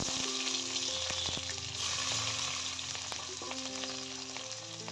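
Dried chilli, bay leaf, cinnamon sticks and cardamom pods frying in hot oil, a steady close crackling sizzle with scattered sharp pops throughout, no voices.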